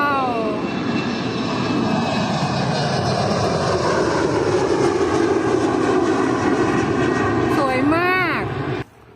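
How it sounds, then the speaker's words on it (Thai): A loud, steady airplane engine roar fills the scene at Warsaw airport, Poland, with voices talking over it throughout, before the noise cuts off abruptly at the end. "เดี๋ยวเครื่องบินจะมาทางนี้"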